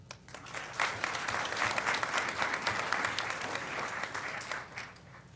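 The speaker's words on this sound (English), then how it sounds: "just a round of applause for our 15 very special student athletes" An audience at a school board of education meeting applauds student athletes, steady dense clapping from many hands that swells and holds evenly, then tapers slightly near the end.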